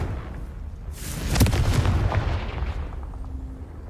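Confringo explosive spell in Hogwarts Legacy, a single loud boom that swells quickly and rumbles away over a couple of seconds, heavy and close.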